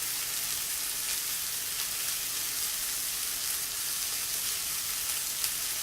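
Chicken frying in a pan for chicken piccata, a steady close sizzle with faint crackles that holds evenly throughout, no voices.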